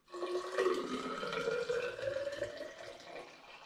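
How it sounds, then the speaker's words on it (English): Blueberry hard cider mixture poured into a hydrometer jar, a steady splashing, trickling stream that carries on for several seconds with no speech. "I'm now going to pour some of this mixture into my hydrometer jar so I can take the original gravity"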